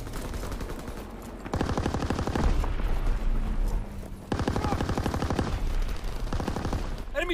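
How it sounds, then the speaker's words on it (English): Loud bursts of rapid gunfire from an enemy strafing run in the World War II shooter Call of Duty: WWII, two long dense volleys separated by a quieter stretch of battle noise. "Enemy strafing run incoming!"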